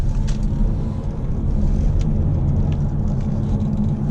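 A 2015 Audi TT diesel driving sportily, heard from inside as a steady, loud low engine and road rumble that holds constant throughout.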